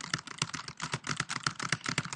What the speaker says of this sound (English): I'm just going to type in some sort of garbage text, just so we have something to look at